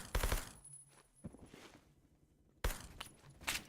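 Gunfire in the Phantom Forces video game, with two short bursts of rapid shots at the start and again near the end, separated by a quieter stretch of faint movement.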